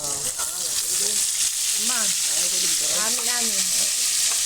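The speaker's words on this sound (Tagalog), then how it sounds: "Ginisa ko muna yung bawang. Tapos, yung alamang na binili ko." Garlic and alamang shrimp paste sauté together in a pan with a loud, continuous sizzle close by, while a voice talks over the frying.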